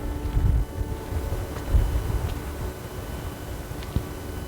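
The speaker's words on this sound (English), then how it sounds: "it's very high up and very windy today." Wind blowing hard across high open moorland at Lodge Moor, Sheffield, in February, heard as a low rumbling buffet on the microphone with gusts swelling near the start and again after a second, and no talk.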